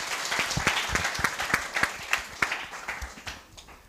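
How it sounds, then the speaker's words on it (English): Audience applause at a workshop pitching challenge, a crowd of hands clapping steadily at moderate volume and slowly tapering off toward the end. "One more time, round of applause for Winston."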